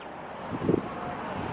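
Wind on a sunny day in Kingman, Arizona buffets the microphone with a low, steady rumble that swells into a brief stronger gust midway through.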